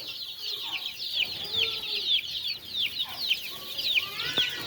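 Domestic hens kept at a home yard cluck repeatedly in short, overlapping calls, with a busy layer of high chirping birds running continuously behind them at moderate loudness.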